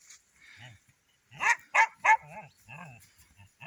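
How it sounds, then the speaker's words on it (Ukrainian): A Laika dog guarding horses at pasture gives a few sharp barks close by, with softer whimpering yips before and after. "А тут лайка сидить і охороняє коней. Нікуди не йде, побачила мене і гавкає."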